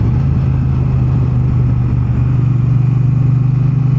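A second-hand Triumph T120 Bonneville motorcycle engine runs loud and near with a steady low throb. The pulse grows slightly more pronounced toward the end. No one speaks.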